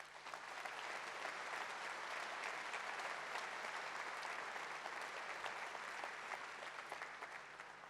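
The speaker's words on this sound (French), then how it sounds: "je crois qu'on peut les applaudir" A steady round of audience applause for a hospital team at a mayor's 2024 New Year address to the Vichy population, even and continuous, heard from some distance at low level.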